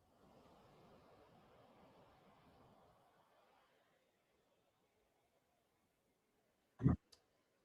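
A hard clack on a computer keyboard in a live trading room, one loud sharp hit followed by a smaller click, after several seconds of faint hiss and near silence.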